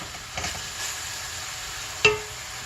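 Minced meat sautéing in a pan for a Turkish eggplant kebab, a steady sizzle with a few soft stirring scrapes and a sharper clink of the spatula against the pan near the end.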